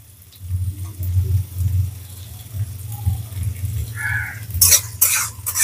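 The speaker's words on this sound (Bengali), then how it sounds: "কিছুটা গাজর আমি কুচি কুচি করে কেটে নিয়েছি, সেই গাজরটা ভাজার জন্য প্রথমেই দিয়ে দিচ্ছি।" Finely chopped carrots frying in hot oil in a wok, with a soft, steady low sizzle and stirring, a few sharper scraping clatters toward the end, no speech.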